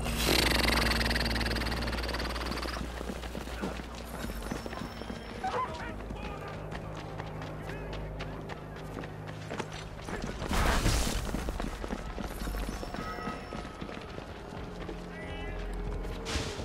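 Horse hooves clip-clop and a horse whinnies in the video game Assassin's Creed 3 Remastered, mixed with game ambience and a loud burst near the middle, while a person talks over the action.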